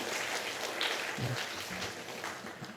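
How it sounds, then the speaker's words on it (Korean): Congregation applause at a Korean church Sunday service honoring teachers and kitchen volunteers, a moderately faint, continuous patter of clapping filling the whole stretch, with a few low murmuring voices underneath. "우리 이분들에게 수고했다가 박수로 한번 격려하겠습니다"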